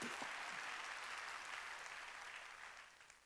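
A congregation claps together during a Sunday church service, producing a dense, steady wash of applause that carries on evenly and fades slightly toward the end.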